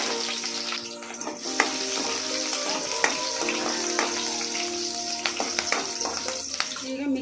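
Cumin seeds and chopped green chillies frying in a little oil in a pan give a continuous close sizzle, broken by scattered sharp ticks and scrapes of stirring.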